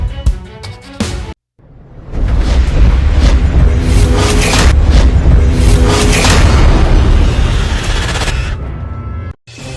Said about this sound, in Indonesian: kali ini Korea Utara benar-benar meledakkan kantor penghubung antar Korea di area perbatasannya pada Selasa 16 Juni 2020